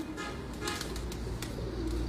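Domestic pigeons kept by a pigeon fancier coo softly over a steady low hum, with a few brighter chirps and clicks scattered through the background.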